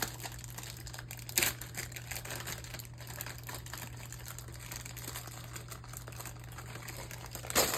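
Crinkly plastic packaging being peeled and rustled off a Diamond Art Club diamond painting canvas, soft close crackles in quiet room with a couple of louder handling bumps.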